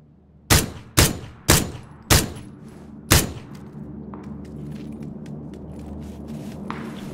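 Gunfire in the battle royale game PUBG: five sharp, loud single shots at an uneven pace, followed by a low rumbling backdrop with faint distant pops.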